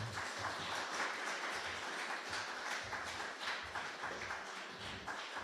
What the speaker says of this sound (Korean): 네, 박수로 환영하도록 하겠습니다.